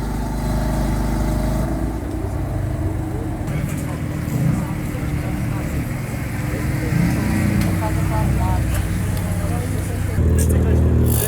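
A BMW M3 E92 idles with its exhaust valves closed at an outdoor car meet, a steady muffled engine rumble with a brief rise near the end, while people talk nearby.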